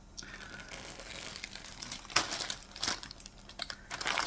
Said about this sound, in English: excuse me for the crinkling